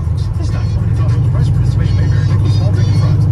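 Steady, loud low engine rumble from a 1978-79 Dodge Magnum with Flowmaster 40 mufflers on dual 2.5-inch exhaust, heard from inside the car while someone talks over it.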